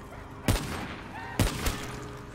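Two sharp, loud gunshots in Black Ops 3 Zombies, about a second apart, each with a short ringing tail over a busy game background, plus a fainter shot after the second.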